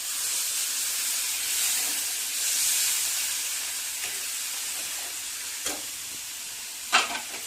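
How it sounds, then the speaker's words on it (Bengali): A ground spice paste for a vegetarian cabbage curry, loosened with a little water, fries in a pan with a steady, steamy hiss, broken by a few soft stirring knocks and one sharper scrape near the end. "এর সাথে দিয়ে ভালোভাবে কষবো।"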